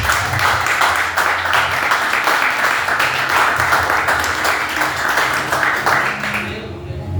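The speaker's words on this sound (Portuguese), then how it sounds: "as palmas louvam ao Senhor" A church congregation claiming applause in praise: sustained, dense rhythmic clapping from many hands, fairly loud and continuous with a faint voice underneath, tapering off at the end.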